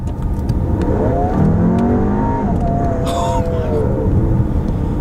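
A 2018 VW Atlas S 2.0L turbo SUV engine revs up hard and accelerates, its pitch climbing and then easing, loud and close with a brief hiss near the end.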